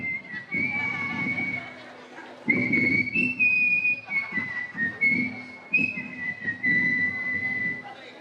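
A person whistles a song tune, a folk melody, in a series of clear phrases with brief pauses, over a low murmur of voices at a religious gathering.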